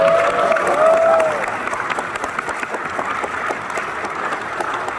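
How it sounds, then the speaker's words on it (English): Audience applause at a fan convention panel in Boston, a loud swell of clapping that settles into steady, slightly quieter clapping, with a brief tonal whine at the start. "Give her a round of applause."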